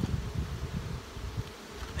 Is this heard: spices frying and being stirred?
no